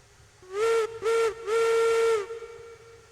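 Steam locomotive whistle in the train game Railroads Online, sounding three loud, steady blasts, two short and one long, over a low background hiss.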